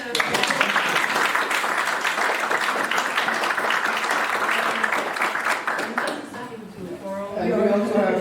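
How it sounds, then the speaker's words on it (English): Audience at a university panel event applauding the panelists, dense sustained clapping for about six seconds before it fades as a voice begins speaking. "A big applause to the panelists."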